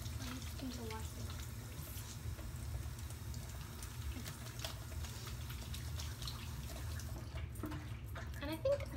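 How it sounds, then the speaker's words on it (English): Water runs steadily from a tap during handwashing in a home kitchen, a constant close splashing rush that carries on for the whole stretch, with faint movement and small clatters over it. "you can watch him while I wash my hands"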